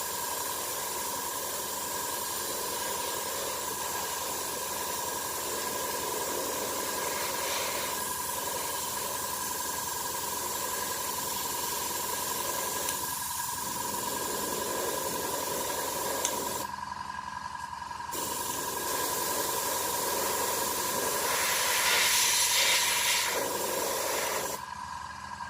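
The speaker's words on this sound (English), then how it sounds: "I'm just letting air blow through the airbrush" Air rushes through an AS-186 airbrush as a steady, continuous hiss that stops briefly twice and then resumes, fairly close and even in level.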